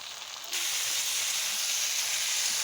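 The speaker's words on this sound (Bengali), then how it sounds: "আলুটা ভালো করে ভাজা হয়ে গেছে এবার আদা বাটা রসুন বাটাটা দিয়ে দিলাম" Ginger and garlic paste hits a hot pan of already-fried potatoes for a pointed gourd curry, setting off a sudden loud, steady hiss of sizzling that holds to the end, with no talking.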